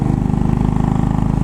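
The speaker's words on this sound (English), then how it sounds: "If you've never heard a slow pumping thumper like this" A Royal Enfield Bullet 500 single-cylinder engine idles with a slow, steady thumping pulse, loud and close, low-pitched and even in rhythm, with no voices over it.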